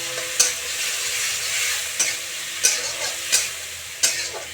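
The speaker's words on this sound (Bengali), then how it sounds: "এটা একটু ভাজা ভাজা হচ্ছে" Nigella seeds, green chilli, grated tomato and turmeric frying in a pan for a pabda fish curry, a close steady sizzle broken by about five sharp scraping stirs of a utensil.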